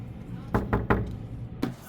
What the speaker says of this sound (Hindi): अब हम उनका दरवाज़ा खटकाएंगे।